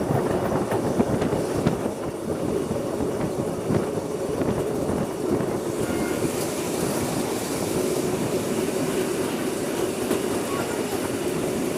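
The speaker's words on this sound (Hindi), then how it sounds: "और यहाँ से ट्रेन मेन लाइन को पिक करती है।" Pakistan Railway's Miyanwali Express 147UP runs along the main line toward Sangla Hill Junction at night, a steady, close rumble of wheels and carriages with faint rhythmic clatter throughout.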